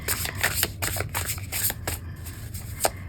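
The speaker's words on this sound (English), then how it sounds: "so now I can shuffle them in one go" A deck of tarot cards being shuffled in one go, giving crisp riffling flutters and soft slaps in uneven bursts, close and fairly loud with no voices.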